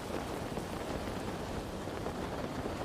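Rain falls in a video game scene, an even, unbroken patter that stays at a steady moderate level the whole time with no voices over it.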